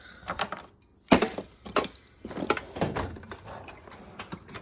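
Small metal drill chuck keys jangle and clink in a handful of sharp bursts, close by, with quiet gaps between the rattles.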